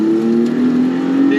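Maserati MC20 twin-turbo engine pulling hard under acceleration, a loud steady drone with a slowly rising pitch, heard close and continuous from inside the car.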